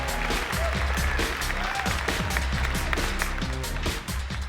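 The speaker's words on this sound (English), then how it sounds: "let's give a round of applause for 3 minutes of Nikki and" An audience at the Atlassian Summit 2015 ShipIt Live event claps in a dense, steady round of applause with some cheering, loud and sustained throughout.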